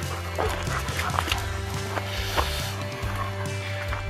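A dog barks several times somewhere off among the ruins of the old Split Rock ammunitions factory near a cave, sharp muffled yaps spaced over a steady outdoor background, moderately distant.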